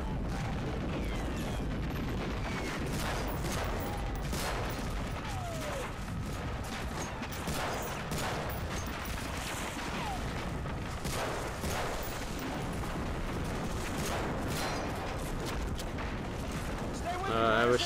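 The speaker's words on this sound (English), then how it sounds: "I was shooting at the wrong guy" Gunfire in the video game Medal of Honor Frontline, a long stretch of fairly faint, continuous battle shooting with scattered shots and booms, heard under a player talking.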